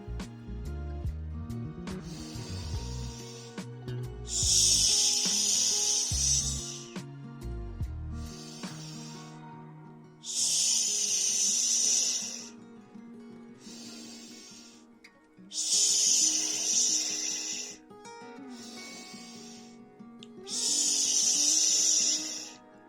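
Long hissing exhalations imitating a snake, repeated four times in a steady rhythm during a children's morning breathing exercise, with soft music playing underneath.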